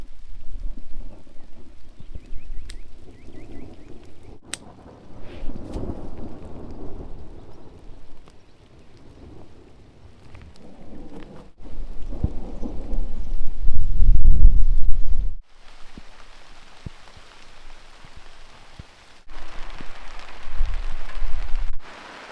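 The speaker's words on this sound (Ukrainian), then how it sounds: "Дощик, просто ідеальний час, щоб працювати в теплиці." Light rain patters on a greenhouse, a steady close hiss of drops with swelling gusts and heavier drumming bursts, occasional sharp drips, and no voices.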